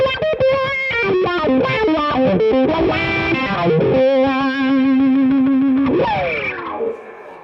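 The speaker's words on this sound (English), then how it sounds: "the Duelist, which is the tube screamer type thing" Electric guitar through a Duelist tube-screamer-style overdrive pedal on a live rig, playing a fluid, distorted blues lead run that settles on a long sustained bend and ends in a falling slide, with no other sound.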